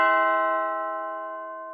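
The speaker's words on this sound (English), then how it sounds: "the doorbell rings" A doorbell rings once, one clear sustained chime fading slowly, heard alone with no talking.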